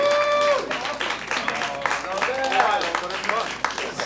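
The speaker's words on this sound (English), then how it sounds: "Guys, start clapping right now for Ben Katzner!" An audience claps for comedian Ben Katzner at a live comedy event, a dense burst of applause heard under a loud voice speaking over it throughout.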